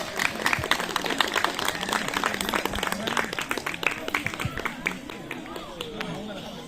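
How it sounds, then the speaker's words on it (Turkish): Scattered audience applause for an award recipient at a certificate ceremony during a traditional picnic festival, moderate and continuous crowd clapping with background chatter and voices over it. "Sayın Ahmet Oğuz'a bir alkış"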